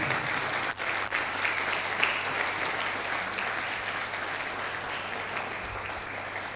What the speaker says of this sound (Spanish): Te animo a darle un aplauso al Espíritu Santo